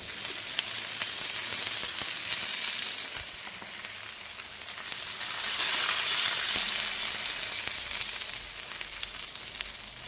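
Dosa frying in a hot pan gives a steady, close sizzle with a bright crackling hiss that swells and fades slightly over the span, with no talking.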